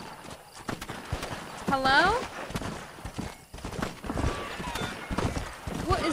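Horse hooves clip-clop steadily in Red Dead Redemption on PS3, with a rising whinny partway through, other game sounds beneath, and a brief spoken word.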